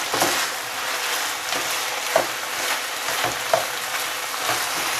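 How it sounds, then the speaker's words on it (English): Chicken and broccoli stir fry with hoisin sauce sizzles in a pan as a spoon stirs it, producing a steady frying crackle with a few sharp scrapes and taps against the pan. "I'm gonna mix this in. Give this a nice stir."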